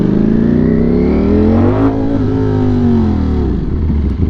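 A motorcycle with a changed sprocket ridden in first gear makes a loud, close engine drone that climbs in pitch, eases off and then rises again.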